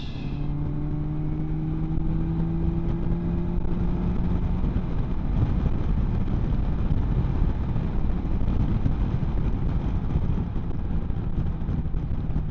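A Kawasaki Versys 1000 SE motorcycle fitted with side cases speeds up on the road: a steady engine drone rising in pitch under heavy, continuous wind roar, loud and close throughout, with no voices.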